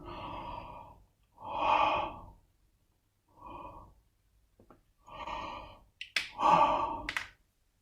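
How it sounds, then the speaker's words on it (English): A person yawns and sighs during a guided relaxation and stretching session, with several long breathy exhalations separated by short pauses, close and fairly loud with no talking. "I yawn."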